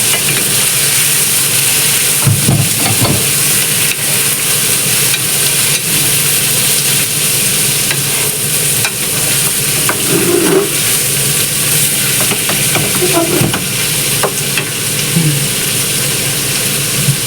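Bihon rice noodles frying in a pan while being stirred, a steady loud sizzle throughout with scattered scraping and clinking of the utensil against the pan.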